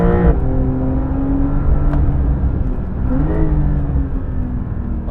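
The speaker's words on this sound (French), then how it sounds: "vous avez vu comment elle rétrograde toute seule là en mode automatique" Porsche 911 Dakar engine droning steadily under load as the automatic gearbox downshifts by itself, the pitch dropping and then climbing again, loud and close from inside the car, with no talk.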